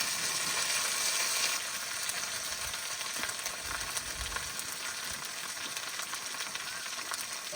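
Bay leaf, whole cumin, ginger-cumin paste and dried chilli paste sizzle in hot oil as the tempering for a village-style rohu fish curry with cauliflower and potato, a steady, close, bright frying hiss throughout.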